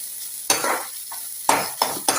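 Grated carrot is tossed in a hot pan for masala dosa filling: low sizzling throughout, punctuated by four sharp scrapes and clanks of a spatula stirring against the pan.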